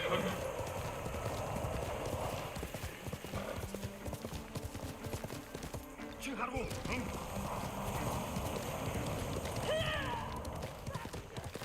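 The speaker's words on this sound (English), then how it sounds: "That's my horse." Steady clip-clop of horse hooves throughout, with a horse whinnying partway and a voice speaking now and then over outdoor noise.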